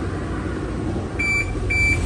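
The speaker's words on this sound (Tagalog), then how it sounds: "Yan yung tunog ng OEM chime natin." Two short high electronic beeps from a car's factory car-finder chime, triggered from a key app, evenly spaced, sounding over a steady low rumble of background noise.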